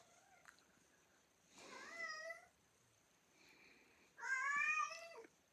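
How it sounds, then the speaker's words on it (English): A cat meows twice, close by and clear, with a pause between the calls in an otherwise quiet room; the second meow is louder and longer. "This cat in the middle of my video decided to just come over here and fall asleep on my chest."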